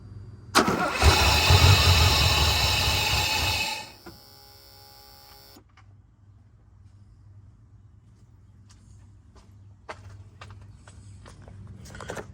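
A 1984 Mercedes 500SEC engine cranks loudly for about three seconds when the key is turned, then stops, leaving quiet with faint clicks and handling noises close by.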